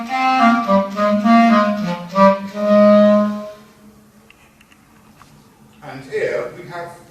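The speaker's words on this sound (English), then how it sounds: "and the clarinet sounds like this" A single-reed clarinet plays a short, clear melodic phrase of sustained notes, then stops, leaving near-silence before a brief spoken voice.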